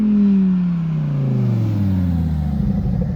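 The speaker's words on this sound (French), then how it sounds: "Putain, il nous drift les caisses." A car engine in the GTA video game revs and rumbles steadily during a drift, its pitch sliding downward, loud and close, with no talk.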